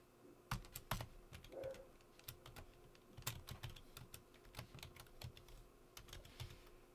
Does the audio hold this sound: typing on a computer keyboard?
yes